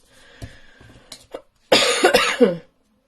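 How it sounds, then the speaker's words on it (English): A few small throat sounds, then a loud harsh cough burst lasting about a second, close to the mic. "Excuse me coughing too."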